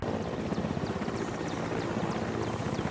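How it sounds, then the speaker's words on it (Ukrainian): A helicopter climbing to about 800 metres carrying paratroopers, a steady loud rotor drone with rhythmic blade chop throughout, with no talk. "Гелікоптер підіймається на 800 метрів"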